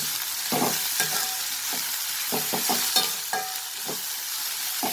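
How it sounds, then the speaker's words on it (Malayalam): Onions and curry leaves sauté in a hot pan, a steady sizzle broken by repeated scraping stirs at an uneven rhythm, close and fairly loud, with no voices. "ഉള്ളിയും വഴറ്റിയെടുക്കാം നല്ലോണം ഇളക്ക്"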